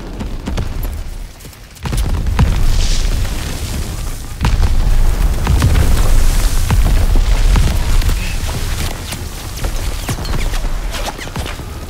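Heavy booms and explosion blasts from artillery fire on the D-Day beach landing in Call of Duty: WWII, loud and continuous with sharp impacts over a rumbling battlefield din.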